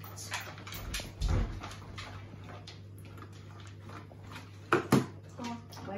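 Dogs wait for their dinner with faint whimpers and shuffling, a couple of sharp clattering knocks like bowls or dishes, and a person's voice speaking briefly over a low steady hum.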